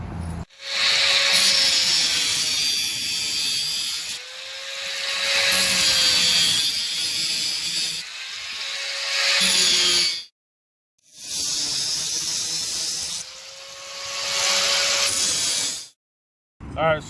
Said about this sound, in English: Pull out the grinder